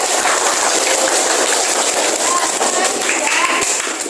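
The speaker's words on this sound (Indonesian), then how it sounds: "Beri tepuk tangan untuk kita semuanya." Steady applause from a classroom full of people, a dense continuous patter of clapping that holds for several seconds.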